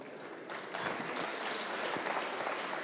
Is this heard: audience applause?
yes